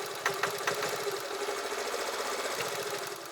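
A 50cc motorcycle engine is held at full throttle on a mountain ride. It gives a steady, close, high-revving buzz with a rapid pulsing rattle and a few sharper knocks near the start.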